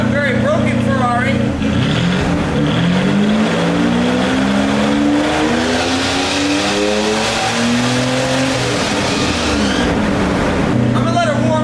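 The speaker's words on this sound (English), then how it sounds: "I'm gonna let it warm up, see if we can rev it a little higher." A V8-swapped Jaguar engine running loud and close, its rough idle climbing into a series of rising revs that sweep up and hold before dropping back to a broken-sounding idle.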